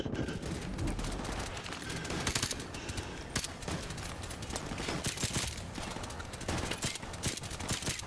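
Pistol fire in Call of Duty 4: Modern Warfare Remastered, scattered sharp shots amid dense, noisy battle ambience with distant gunfire throughout.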